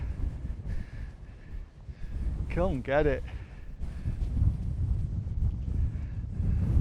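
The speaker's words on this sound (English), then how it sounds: "It is quite windy, but this mic is pretty good" Steady low rumble of wind buffeting a microphone on a Scottish mountain hike up Sgor Gaoith, running throughout beneath a brief spoken phrase and a short burst of bright chirping.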